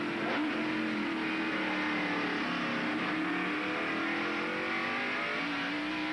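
A NASCAR stock car roars steadily on a race track, its loud continuous engine note holding and slightly shifting pitch throughout, with no voices present.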